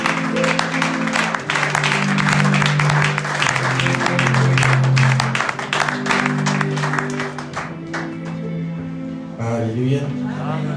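A church congregation at a Sunday covenant service applauds and acclaims the Lord with steady, dense clapping that runs for about nine seconds. Sustained singing or music tones sit under it, and the clapping thins near the end.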